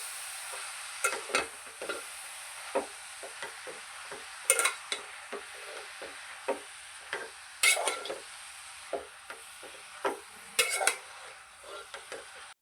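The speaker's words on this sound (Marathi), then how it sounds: "आपलं घी तापलेलं आहे, त्यामध्ये ना आपण गाजर टाकूया. आणि गाजर आहे ना चांगलं फ्राय करून घेऊया 2 मिनिटं फक्त." Grated carrots stirred and sautéed in ghee for gajar halwa, a soft continuous sizzle punctuated by repeated scraping knocks of a spoon against the pan.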